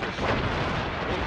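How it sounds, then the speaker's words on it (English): Mortar fire booms in Assassin's Creed Rogue, a dense, loud, rumbling blast filling the whole short moment with no voices. "Good use of your own mortars."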